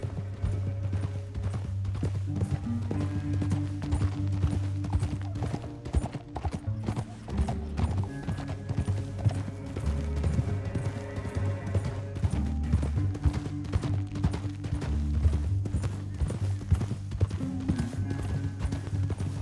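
Horses gallop in the video game Red Dead Redemption 2, a steady, rapid clip-clop rhythm throughout, with a low rumble of hoofbeats underneath and occasional snorts.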